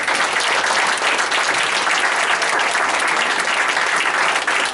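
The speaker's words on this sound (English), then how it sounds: "Again, a round of applause for you for leading this ride." A college board meeting audience gives the cheerleaders' advisor a round of applause, a thick and steady roar of many hands clapping at a constant level.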